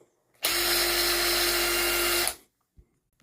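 Power tool running on a DeWalt Power Stack battery through an adapter, a single close, loud, steady high-pitched whir lasting about two seconds before spinning down into quiet.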